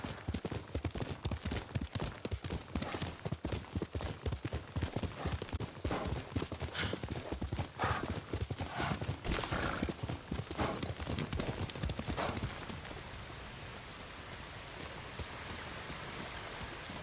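Horse hooves clip-clopping in the video game Ghost of Tsushima, a fast steady trot of close, crisp hoofbeats that stops after about twelve seconds, leaving soft rain-like ambience.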